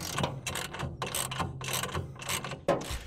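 Rapid clicking ratchet strokes as crossmember bracket bolts are tightened on a TruXedo Deuce truck bed cover, a close, uneven series of short metallic bursts with small pauses between pulls.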